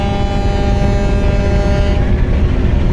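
Several river passenger launches, Adventure 1, Adventure 9, Prince Awlad 10 and Sundarban 16, depart together with a loud, continuous low engine rumble and a sustained tonal horn-like drone, up close and steady, with no voices.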